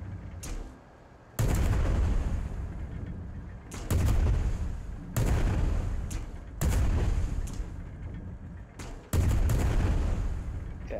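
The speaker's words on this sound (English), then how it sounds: "Somebody's shooting at us." Gunfire aimed at the player's vehicle in a video game, with heavy booming shots and bursts arriving in loud separate volleys over a constant rumbling background.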